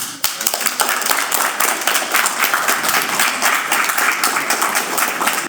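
Audience applause at a film screening in Avignon, a dense continuous patter of many hands clapping that holds steady and fairly loud throughout, with no talk over it.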